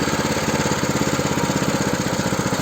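Kentavr MB40-1C walk-behind tractor, a modernised unit, running steadily with its wheels turning: a close, loud, continuous engine chug with a fast regular pulse and no talk.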